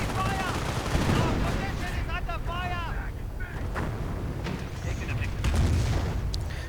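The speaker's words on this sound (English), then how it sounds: "Lots of machine guns there from the assault guns. And some Nebelwerfer fire." Machine gun bursts and Nebelwerfer rocket fire ring out in a strategy video game battle, a dense rumbling barrage with whistling rocket sounds, partly under a voice talking.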